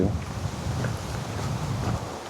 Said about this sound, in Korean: 바람 소리 들리시나요?